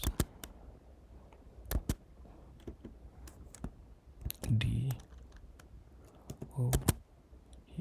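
Keystrokes tapped on a computer keyboard at a command-line terminal, sharp clicks in irregular bursts, some quick runs and single taps, close by in a quiet room.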